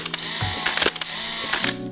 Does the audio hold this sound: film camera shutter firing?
yes